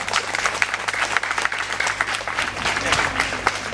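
An audience at a school event with parents applauds a cultural host, a dense steady patter of many hands clapping at moderate distance, with voices mixed in.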